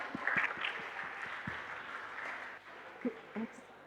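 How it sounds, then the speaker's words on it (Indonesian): Applause for a student at a school anti-bullying talk show, a brief burst of scattered clapping that fades into room murmur and a few louder knocks near the end. "Tepuk tangan untuk teman kita"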